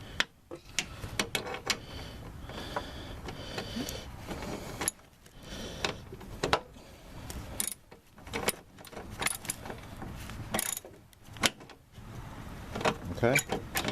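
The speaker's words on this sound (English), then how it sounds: "we use a socket wrench to tighten up all 3 screws" A socket wrench tightens bolts on the front end of a 1998–2003 Toyota Sienna, giving irregular metallic clicks, ratcheting and clinks at close range over low background noise.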